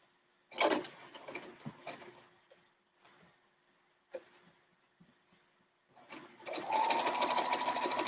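A sewing machine stitching quilt pieces, with scattered clicks and short bursts of handling at first, then a loud, steady close-up run of rapid stitching over the final seconds.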